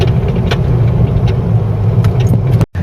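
A Ford Cortina Mk3 engine runs steadily and fairly loud as a continuous low hum, with a few brief clicks over it and a short cut near the end.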